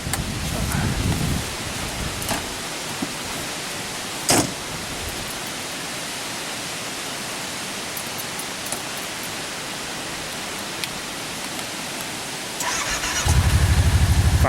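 A four-seat side-by-side UTV engine fires up near the end, its low rumble rising sharply out of a steady hiss of outdoor noise, with one brief sharp knock earlier on.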